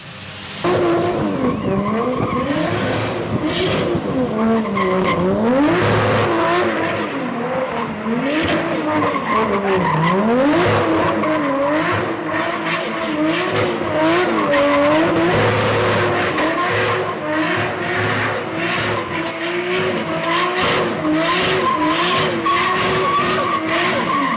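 A 750 bhp Toyota Supra does a burnout and drifts, its tires squealing loudly and continuously over a roaring, revving engine whose pitch swoops up and down throughout.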